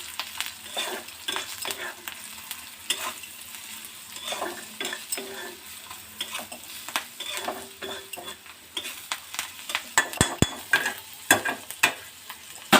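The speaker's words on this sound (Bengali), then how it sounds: "এবার ভালোভাবে একটু নাড়িয়ে নেব" Garlic paste, curry leaves and ground coriander-cumin sizzle in hot oil in a pan, stirred with steady scraping strokes and occasional sharp clacks of the utensil against the pan; close and moderately loud, with no talking.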